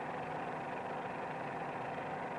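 A PT-17 biplane engine labouring harder in a climb, a steady, even drone with no pauses, heard alone at moderate distance.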